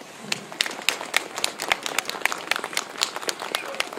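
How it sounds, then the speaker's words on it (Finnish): An audience at the 2019 Lahti Christmas opening claps steadily in dense, crackling applause. The clapping runs through the whole stretch with some crowd murmur mixed in. "Eiköhän anneta vielä aplodit heille."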